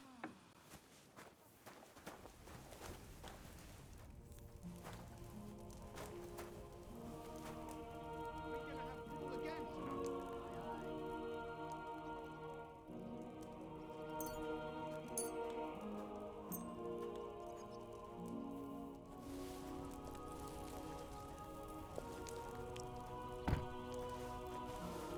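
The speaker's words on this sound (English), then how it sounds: "Pissing down rain again." Heavy rain falls steadily on the surfaces of a medieval village in Kingdom Come: Deliverance II, mixed with squishing footsteps and occasional distant voices, under a continuous musical score.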